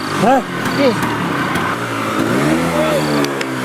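A stationary car's engine is revved harder without the car moving, the mid-pitched revving sitting under overlapping voices.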